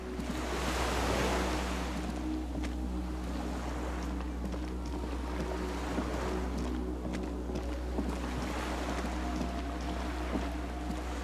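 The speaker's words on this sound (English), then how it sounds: "The skiff is swaying on the waves by the dock." Water laps against a moored skiff beside a dock in the video game Disco Elysium, a continuous rolling wash of waves with a low steady rumble and soft wind, no voices.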